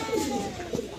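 Pigeons give a brief, soft coo, close by, with a voice briefly heard over it.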